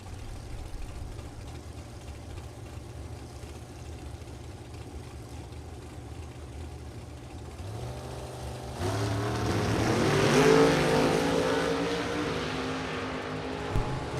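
Drag racing cars, one a Chevrolet Monte Carlo, launch off the line at a Top Sportsman and index event. Distant engines hum at first, then a louder roar swells midway and carries on.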